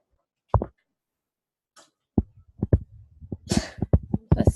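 A single sneeze cuts through a quiet classroom math lesson on parabolas: a sharp burst set among short throat sounds and brief vocal noises.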